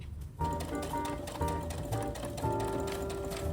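A sewing machine runs in short bursts, stitching fabric for a mini tote bag: close, rapid mechanical whirring and clatter, pausing briefly between runs, with no talking.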